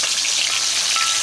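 Cere fish frying in hot oil, a dense, steady hiss and crackle of sizzling that holds loud and even throughout, with no voices.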